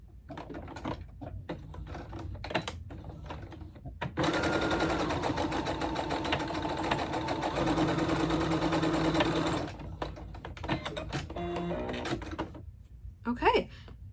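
A sewing machine back-tacks fabric for a tissue pouch: a dense run of rapid stitching for about five seconds, framed by shorter start-stop bursts, handling clicks and fabric rustle, with a voice talking in the quieter stretches.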